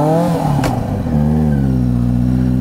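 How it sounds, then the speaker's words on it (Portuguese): A Yamaha XJ6 turbo motorcycle engine running close by, its tone rising and settling into a steady, loud idle-rev hum with a brief clatter early on. "Sorte que a moto ligou."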